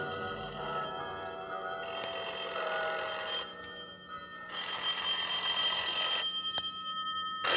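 Temple bells ring out in a radio drama effect, a Buddhist temple atop the Mark Hopkins, with sustained ringing tones swelling in bright bursts and dying back between them, loud and continuous with no talk.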